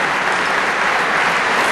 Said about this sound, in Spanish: Muy bien, un fuerte aplauso.